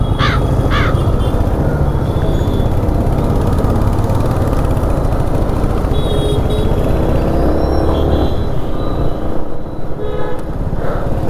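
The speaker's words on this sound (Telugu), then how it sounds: "ఇదేంట్రా బాబు ఇంత ట్రాఫిక్ ఉంది." Dense city traffic heard from a Yamaha MT 15 motorcycle in motion, a loud steady rumble of engines and road noise with several car horns honking nearby.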